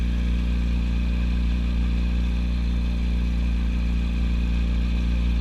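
A Yamaha YZF-R1 sport motorcycle being ridden, its engine a steady loud drone held at an even pitch throughout, close to the listener, with no voices.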